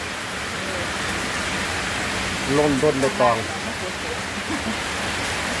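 Heavy rain pours steadily outdoors as a broadband hiss throughout, with a person talking briefly over it midway.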